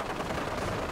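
Dense, continuous gunfire from a large firefight in Fallout 4, with rapid overlapping shots blending into a loud, steady barrage. No voices break through across the short burst.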